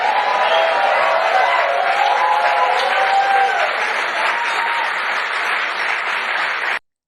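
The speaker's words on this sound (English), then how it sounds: "Justified applause." Loud, sustained applause with some cheering from a large crowd at a political speech, continuous and close before cutting off abruptly.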